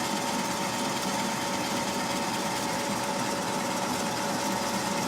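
A Corretto coffee roaster roasting Kenyan AA beans gives a constant loud mechanical whir and hum, unbroken throughout with no voices, heard close up.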